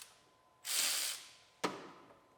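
A ratchet wrench loosens hinge bolts on a Chevrolet Silverado truck cab: a half-second burst of quick clicking, a pause, then a second short sharp burst, fairly close and without talk.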